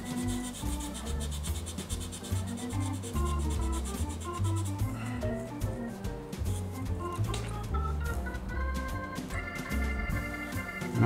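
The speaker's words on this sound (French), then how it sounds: "Alors maintenant, j'ai besoin de poncer un petit peu là, pour voir où ça en est." Sanding a 1/48 HobbyBoss A-6E Intruder plastic model aircraft kit, a continuous close rubbing and scratching of abrasive on plastic that keeps going without a break, with no one speaking.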